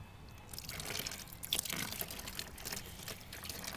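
Water spraying and dribbling from a garden hose held up high for a child to drink from, a soft steady trickle with light splashes and drips throughout, close by and fairly quiet.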